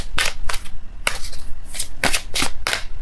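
A deck of tarot cards is shuffled close up, with a series of sharp riffling bursts and soft slaps of cards coming together in an uneven rhythm, no talking.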